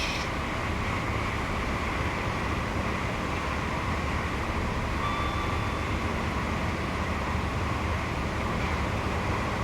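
A train in the Train Sim World 3 game rushes past as a steady, loud roar of wheels and rushing air that holds constant throughout, with a faint brief tone partway through.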